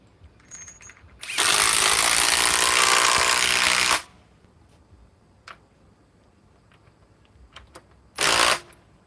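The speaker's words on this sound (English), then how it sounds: "Metabo HPT triple hammer bolt." A Metabo HPT triple hammer impact wrench, cordless, roars in one loud continuous burst of about three seconds, followed after a quiet gap by a second short burst.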